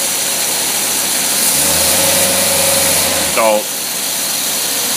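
An engine runs loaded at 3,000 RPM, giving a loud, constant drone with a low throbbing layer and a brief pitch sweep near the end. A voice speaks briefly over it.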